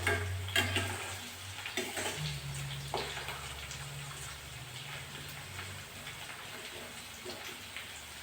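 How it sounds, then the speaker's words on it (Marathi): Green chillies and garlic fry on low heat with a faint, even sizzle, close by but soft, dotted with a few small ticks and one brief stir. "छान शिजवून घ्यायच्या मिरच्या, लसूण कमी गॅसवर"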